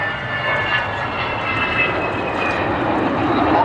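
A bomber aeroplane flies past at the Great Yorkshire Airshow at Church Fenton, its engines producing a loud, steady droning roar with a sustained whining tone, with no speech over it.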